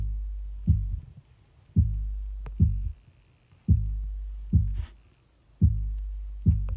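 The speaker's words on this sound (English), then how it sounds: "I layered an 808 kick instead of the bass." A deep 808 kick layered under a chopped breakbeat sample in a house and breakbeat track, heavy booming hits landing in a regular, slightly uneven rhythm, loud and alone with no talking.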